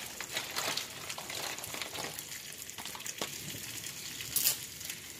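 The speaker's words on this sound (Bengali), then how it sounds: "এই মেথির ফোড়ন দিয়ে এইভাবে চিকেনটা রান্না করলে খেতে বেশ ভালো লাগে" Chicken frying in oil with a fenugreek seed tempering, a steady crackling sizzle with soft spattering pops and occasional stirring scrapes, close and moderately quiet, no talking.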